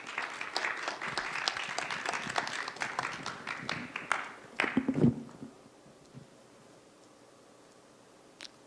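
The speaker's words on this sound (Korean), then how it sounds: "우리 정경용 교수님 박수로 한번 환영해 주시죠." A forum audience gives a welcoming round of applause, a moderate patter of clapping that lasts about four seconds, then thins out and stops, leaving a quiet room with faint rustling.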